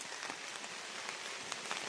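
Heavy rain on a cold, wet day, a soft, even patter of drops on surfaces with a few sharper taps, fairly faint and continuous.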